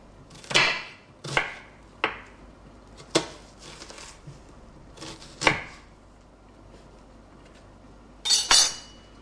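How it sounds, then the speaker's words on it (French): A knife chops an onion on a cutting board for a veal dish: about eight sharp, separate knocks spaced irregularly, with a quick double strike near the end, close and clear over a quiet background. "On va d'abord émincer l'oignon."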